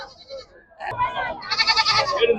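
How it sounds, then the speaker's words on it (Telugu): Goats bleat at a goat market in Bhadradri Kothagudem, Telangana, with a few wavering calls up close mixed with people talking nearby. "ఇక్కడ వచ్చేసి మేకలు ఉన్నాయి"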